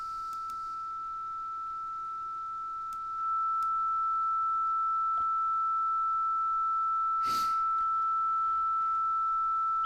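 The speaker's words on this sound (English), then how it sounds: "This is the sound of console 6." Steady pure sine test tone run through the Airwindows Console6 plugin, a constant unwavering pitch held throughout, with a slight level step partway and a faint brief noise burst, no speech.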